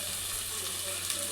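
Chole masala curry fries in oil with red chili powder in a pan, giving a steady, close sizzling hiss that runs unbroken throughout with no speech.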